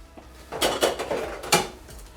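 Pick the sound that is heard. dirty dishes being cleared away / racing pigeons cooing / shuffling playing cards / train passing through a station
dirty dishes being cleared away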